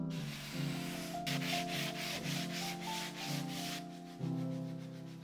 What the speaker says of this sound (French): une couche, je ponce, une autre couche, je ponce.